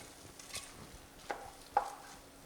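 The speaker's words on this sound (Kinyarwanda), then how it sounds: "Ni byiza kuvanga nyine ukabona ko ibirungo biri gukwirwa ahantu hose." Rice mixed with spices being stirred in a cooking pot, a few soft scraping strokes with two sharper clinks near the end, quiet and close with no talking.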